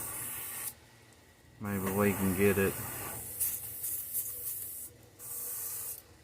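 A paint sprayer hisses out copper paint at low pressure in short bursts, with a person talking between sprays.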